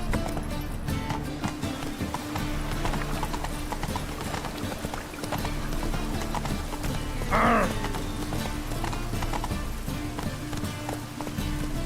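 Roach, a horse in The Witcher 3, clip-clops along at a steady trotting pace, hooves close and continuous over ambient game sound, with a brief whinny partway through.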